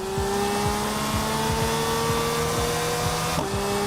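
A car engine in the racing game Test Drive Unlimited Solar Crown drones with a steady whining, vacuum-cleaner-like tone, holding a constant pitch with rhythmic low thumps underneath and a brief shift near the end.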